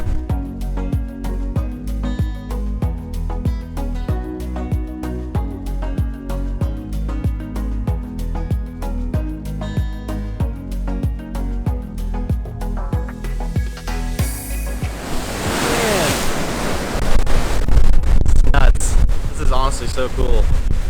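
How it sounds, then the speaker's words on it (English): Massive ocean waves crash against rocks at Punta Sur on Isla Mujeres, Mexico. A steady rhythmic beat runs for most of the stretch, then a loud roaring surge of surf and wind rushes in near the end. "There's some massive waves crashing into the rocks right here"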